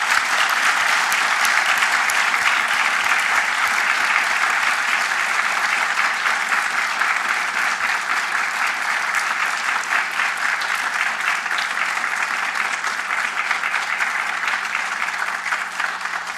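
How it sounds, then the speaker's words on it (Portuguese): A warm round of applause fills a signing ceremony hall, dense and steady from start to finish at close range, with no break in the clapping. "Os saudamos com uma calorosa salva de palmas."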